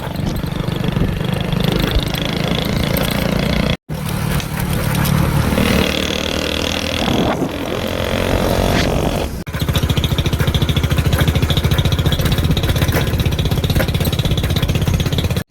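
A vehicle engine runs steadily and loudly throughout, rumbling close by with a couple of brief cutouts and shifts in pitch along the way.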